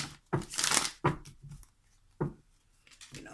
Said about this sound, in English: let me shuffle that again. Yeah, I have to get a good shuffle in.